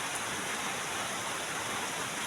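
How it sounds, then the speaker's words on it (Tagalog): Heavy rain pours down on a rural mini garden, a dense, steady hiss of countless drops heard up close and alone. "So ayan, sobrang lakas ng ulan."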